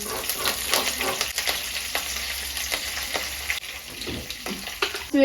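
Urad dal sizzling in hot oil for a kadle avalakki breakfast, a close, steady crackling fry with scattered pops and stirring scrapes, softening briefly before a louder sputter at the end.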